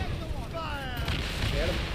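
Ship cannons firing during a naval battle in the game Assassin's Creed Rogue, heavy low booms rumbling over a dense battle din, with shouted crew voices briefly audible on top.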